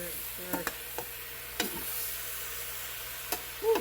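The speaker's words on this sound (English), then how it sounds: "Stir that, stir." Cabbage with onions and green pepper cooking in a pot, a soft sizzle under a few light spoon taps and scrapes spaced irregularly, quiet and close, with a voice heard briefly.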